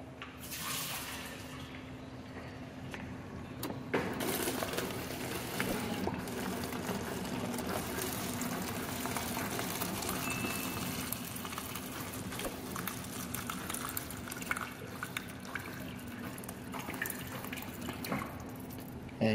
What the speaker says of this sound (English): keep running this a few times until your water starts coming out with a nice stream and not sputtering